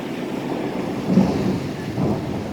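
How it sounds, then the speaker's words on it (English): Thunder rumbles through steady rain on a warm, windy night, a low roll swelling around the middle and again near the end over a constant wash of rainfall and wind noise. "Nice, warm, windy night with some rain."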